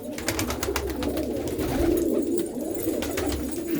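Pigeons kept by hobby fanciers in a Punjabi village coo steadily at close range, a low continuous murmur layered with soft overlapping calls throughout and no talking.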